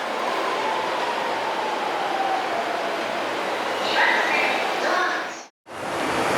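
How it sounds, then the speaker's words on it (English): A train rumbles and rushes past at a Tokyo station platform, a steady, loud roar of rolling wagons with a brief squeal, cut by a sudden short dropout near the end. "I missed my train. I'm gonna have to wait 2 minutes for the next one."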